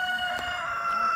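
A rooster calling in a village yard, a sustained nasal crowing tone up close, with a short sharp burst in the middle and no talking.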